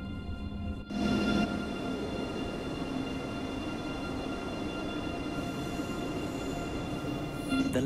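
A train in Train Sim World 2 rumbles steadily with a broad low roar, a click near the start as it begins moving, continuing loud and constant without any voices.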